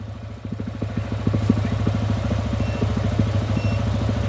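A TVS Apache RTR motorcycle engine idles at around 1600 rpm with a steady, rapid low thumping pulse, close and continuous, with a faint tick or clatter on top.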